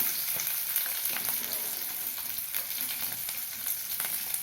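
Continuous loud sizzling of onions sautéing in a hot pan, with soft stirring scrapes and light crackles throughout.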